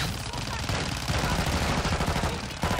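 Rapid automatic gunfire from Call of Duty: Modern Warfare II rattles on almost without pause, loud and dense, with bursts overlapping in close-range combat on the Shipment map.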